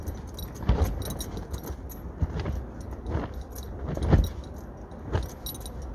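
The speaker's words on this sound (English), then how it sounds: "And the zips, obviously, as I mentioned before, they jingle a lot." Metal zips on an OCAM aluminium rooftop tent jingle and clink in gusty wind, coming in brief irregular bursts of light metallic rattling over a low rumble of wind.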